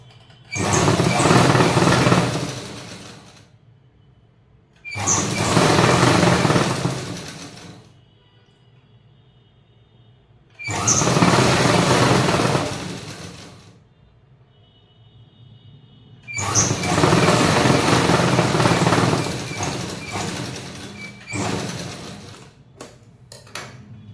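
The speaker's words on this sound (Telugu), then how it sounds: "ఇప్పుడు ఇలా పెట్టుకొని ఒక స్టిచ్ చేసుకుంటాం." A sewing machine stitching a blouse: four loud, close bursts of fast whirring needle motor, each a few seconds long, separated by quiet pauses with light handling noise.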